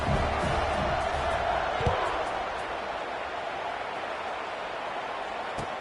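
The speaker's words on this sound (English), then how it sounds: "this crowd now ready to get behind them" Stadium crowd in the college football video game NCAA 26, a steady broad roar of many voices before a kickoff, loud at first and easing slightly, with a thud near two seconds.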